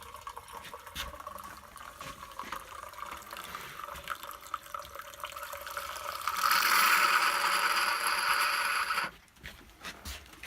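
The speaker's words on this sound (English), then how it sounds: "I guess we're just simulating what a regular electric Keurig does." An off-grid, Keurig-style coffee maker with a sealed plunger forces water through, giving a steady trickling, dripping flow. The sound rises to a louder, hissy gush midway, then stops abruptly, leaving a few faint sounds.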